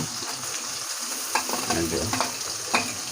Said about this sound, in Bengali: এখন টমেটো দিয়ে দেব টমেটো দিয়ে নাড়ব